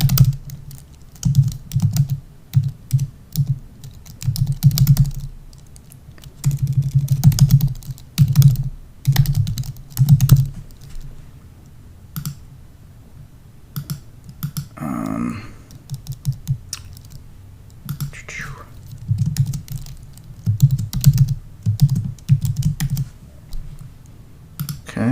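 Bursts of fast, close clicking come from typing on a computer keyboard while a password is set up, with short pauses between the runs. A brief different noise stands out partway through.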